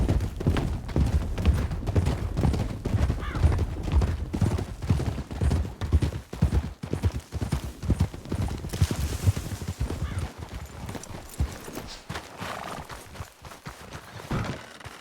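Horses' hooves clip-clop in quick, steady beats in a western role-play video game, with several animals moving at once. Louder bursts and what may be distant gunfire sound underneath.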